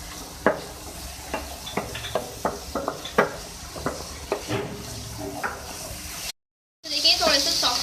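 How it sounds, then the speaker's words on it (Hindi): Carrots and other vegetables fry in a pan under a soft sizzle while a spatula taps and scrapes in quick uneven strokes. A brief silence near the end gives way to a louder, busier stretch. "थोड़ी फ्राई करें।"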